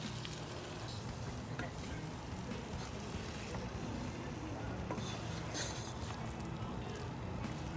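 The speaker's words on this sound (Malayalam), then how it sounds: "നമുക്ക് ഈ മസാല ഷ്രിംപിൽ വരുന്ന രീതിയിൽ ചെറുതായിട്ടൊന്ന് ഇളക്കി ഒന്ന് പിടിപ്പിക്കുക" Shrimp stirred into a Kerala-style masala in a pan makes a continuous low sizzling rush with faint scraping touches, fairly quiet and without talk.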